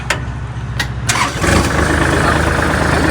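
A Kubota L3608 tractor's diesel engine cranks with a few sharp starter bursts, then catches and settles into a loud, steady rumbling idle close by.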